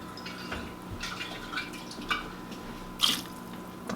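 Water splashing and trickling into a pot of stewed turnips, with soft drips and a brief louder splash near the end, heard close against a faint background hum.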